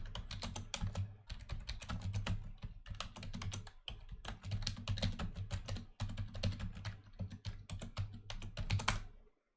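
Rapid typing on a computer keyboard, close and clear, comes in dense bursts of key clicks with brief pauses between runs and no talking.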